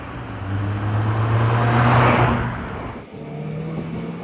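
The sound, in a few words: Honda TSX accelerating without VTEC engaging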